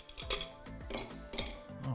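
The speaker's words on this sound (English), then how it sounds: "we're gonna fill this full of ice cubes" Ice cubes drop one after another into a double old-fashioned glass, giving a run of hard clinks and rattles close up with no talking.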